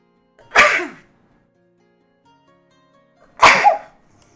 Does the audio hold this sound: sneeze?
yes